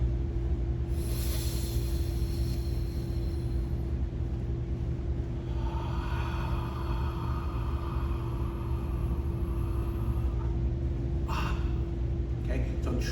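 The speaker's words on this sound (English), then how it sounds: "I'm going to breathe audibly." Audible deliberate breathing in a tai chi exercise, a hissing inhale followed by a long drawn-out exhale over steady low hum, close to the microphone.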